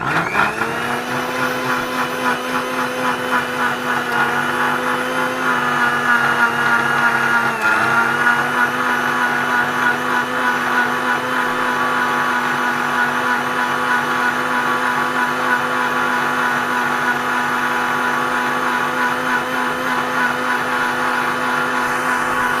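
A mixer grinder whirs steadily and loudly as it blends a meat filling for a Malabar meat pola. The motor drone holds a constant pitch throughout, with a brief dip partway through and no talking.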